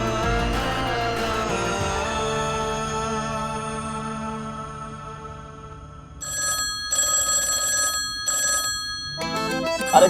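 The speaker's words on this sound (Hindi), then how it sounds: "टेलीफोन बज रहा है, फोन उठाओ।" A telephone bell rings continuously in bursts, with tonal music-like sounds underneath and no speech.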